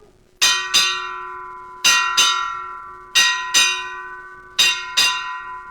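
A ship's bell struck to mark the watch hours rings in four pairs of double strikes, each pair clear and close, every ring decaying before the next pair about a second and a half later.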